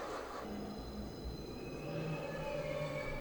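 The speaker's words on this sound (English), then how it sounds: "I hate the screeching of the subway as well." A subway train rumbles along steadily while its wheels let out long, thin metallic squeals that waver and slide in pitch.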